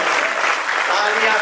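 Steady, dense applause from a crowd at a Hindi poetry recital marking Maharana Pratap Jayanti, loud and continuous throughout this brief moment with no gaps.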